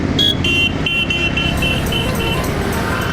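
Peak-hour road traffic in Bangalore, a dense continuous rumble of engines close by with repeated short horn toots sounding over it throughout.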